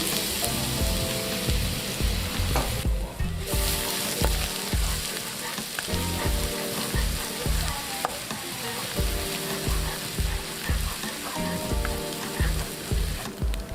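Crushed ginger garlic paste hits about half a cup of hot oil, giving a loud, steady sizzle and frying hiss for the whole stretch, with no voices over it.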